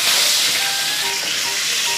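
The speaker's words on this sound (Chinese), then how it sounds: "直接就煎个芝士牛肉饼。" A cheese beef patty fries in a pan with a loud, continuous close sizzle and crackle, no voices over it.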